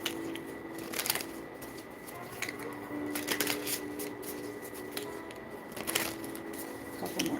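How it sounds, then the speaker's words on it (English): Tarot cards being shuffled by hand, with several crisp riffling bursts spaced a second or two apart, close and clear over a faint background hum. "Couple more shuffles."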